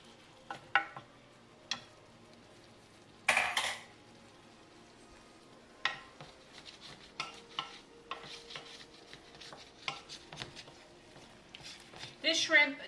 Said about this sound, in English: I'm going to add the shrimp to the dish. Stir it all together.